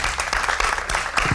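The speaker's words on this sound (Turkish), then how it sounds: "Merve Hanım'ı bir alkışlayalım" Short round of studio audience applause on a Turkish late-night talk show, a quick dense burst of clapping lasting just over a second.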